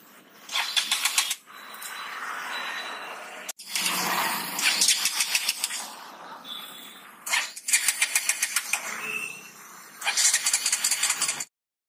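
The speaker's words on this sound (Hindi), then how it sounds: "तो बाइक जो है स्टार्ट नहीं हो रही है," A KTM Duke 200 motorcycle engine, out of petrol, cranks over and over with a rattling, sputtering churn in repeated bursts, never catching and settling into a steady idle.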